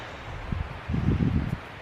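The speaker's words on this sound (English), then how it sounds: "It's kind of windy today though too" Wind gusts buffet a microphone outdoors, low rumbling bursts rising and falling, strongest in the second half.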